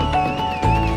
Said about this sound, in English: the winner of the amateur cart class, the Eagle Rock Belgians, Rhett Thornley at the reins